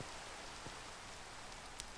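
Steady soft rain in Minecraft, a continuous fine hiss of falling drops with a few faint taps, evenly spread and moderately quiet.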